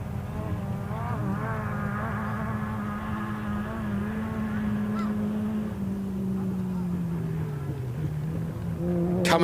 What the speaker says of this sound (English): Coming up over the hill, definitely a car now. We can hear a few revs